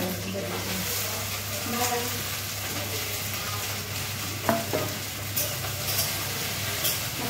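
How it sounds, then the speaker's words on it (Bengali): Okra and green chillies hit hot ghee with cumin seeds, setting off a steady close frying hiss, with a few soft clinks of a spoon against the pan near the end. "এই ঢেঁড়স গুলো দিয়ে দিলাম।"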